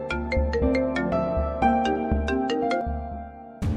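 Phone ringtone from an incoming call: a loud, close melodic tune of repeated bright tones with a steady rhythm, playing alone for several seconds.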